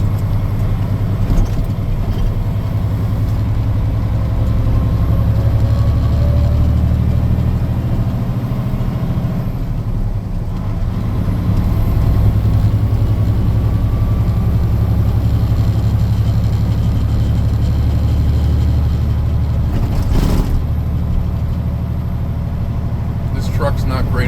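A pickup truck on Prospect Street near Turners Falls drives along with a steady low engine drone and road rumble from inside the cab, with a few knocks and rattles.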